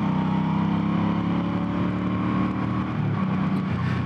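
A steady, loud engine drone from a Suzuki M50 motorcycle holds throughout, revving and accelerating with a continuous low roar close by.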